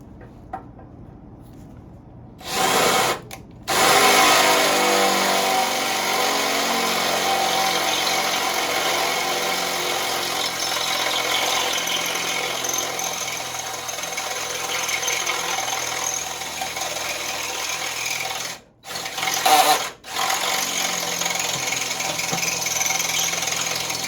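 A power drill bores through metal for a RideTech front sway bar install on a 1955 Chevrolet Bel Air, whirring loudly and steadily for a long stretch, with brief stops and restarts near the start and end.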